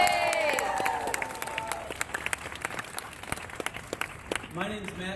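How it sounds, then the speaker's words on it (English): Applause from a crowd at a Save the Supreme Court rally in Des Moines, a steady wash of clapping running for several seconds with a voice talking over it near the start and end. "Let's have another round of applause for all of our speakers here"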